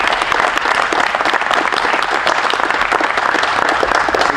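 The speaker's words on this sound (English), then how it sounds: "we can have a round of applause for Coach Ellis" A crowd at a coaching clinic applauds Coach Ellis, dense steady clapping from many hands, close and sustained for several seconds without pause.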